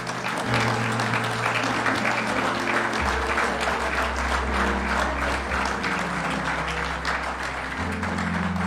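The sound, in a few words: audience applause for fire department chief officers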